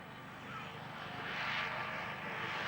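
An aircraft makes a low pass at the 1994 Woodvale air show, its engine drone swelling louder toward the middle as it sweeps close by, then easing slightly, heard at a moderate distance outdoors.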